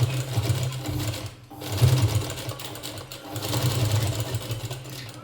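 A sewing machine stitches a decorative latkan tassel for a blouse in rapid, whirring bursts. There are two brief pauses, around one and a half and three seconds in, and no talking over the motor.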